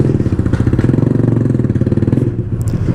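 A motorcycle rides a slippery, rain-soaked road in wind. A close, steady engine note throbs in quick rhythmic pulses throughout, with no voices.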